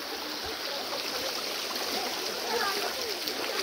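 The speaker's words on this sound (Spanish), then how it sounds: "Esta es la agüita sarca" A shallow stream rushes over stones in a steady, close wash of flowing water, with faint voices talking underneath.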